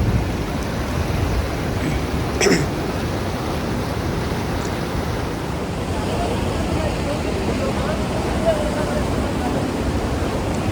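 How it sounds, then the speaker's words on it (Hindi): A river flowing on the way to Kedarnath in the Himalayas, a steady broadband rush that stays loud and even throughout, with one brief sharp knock early on. "ये देख रहे हैं पानी किस तरह से बह रहा है"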